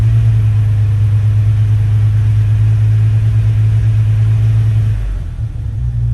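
A Jeep 4.0 engine idles after a throttle body repair with a loud, steady low rumble close by, its hum dipping and wavering near the end.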